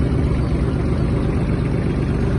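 A Kubota KL-2450 mini tractor engine idles steadily while it warms up, a continuous low, even rumble close by with no talk.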